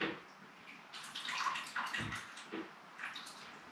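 Tap water runs and splashes steadily with a soft, uneven gurgle, fairly quiet and close, with no voices over it.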